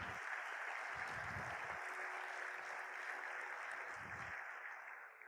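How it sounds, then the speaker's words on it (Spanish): A church congregation applauding God during a worship service, a dense sustained wash of clapping close by and filling the room, with a few low thumps underneath and no speech. "Dale un aplauso a Dios si lo crees."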